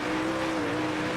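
Sprint car engine in World of Outlaws 24, a steady droning roar held at a constant pitch, loud and close, with the throttle eased off rather than at full power.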